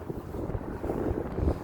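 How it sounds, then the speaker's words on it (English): Strong wind buffeting a microphone outdoors on a very windy day, a continuous low rumbling roar with gusty fluctuations and no talk. "it's so windy out here"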